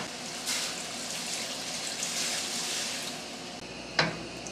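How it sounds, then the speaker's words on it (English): Wine poured into a pan of sautéed mushrooms for stroganoff, a steady broadband hiss of liquid hitting hot pan running throughout, with a brief sharp clink near the end. "add more wine."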